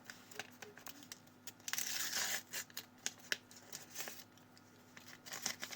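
A paper surprise packet is torn open and crinkled by hand, with quiet rustling that swells into a brief louder ripping burst, then scattered crinkles and small tears close by, with no talk.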